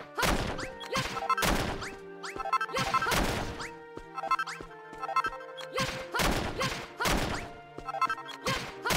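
Repeated heavy smashing and crunching of dirt walls being broken down in Dragon Quest Builders, loud bursts in irregular clusters with brief pauses, over a steady game music bed.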